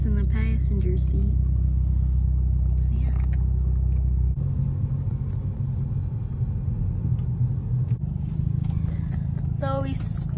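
Car driving along, heard from the passenger seat: a steady low rumble of engine and road noise fills the cabin throughout, with brief bits of voice and music at the start and end.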